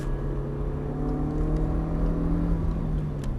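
A car in Star in a Reasonably Priced Car held at full throttle in fourth gear through a track corner, a steady loud engine drone with sustained harmonic tones rising slowly, continuous and alone without talk.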